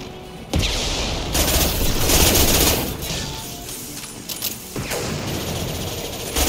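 Rapid automatic gunfire from the Mass Effect 2 video game rattles in dense sustained bursts, loud and continuous with brief gaps, punctuated by booming impacts.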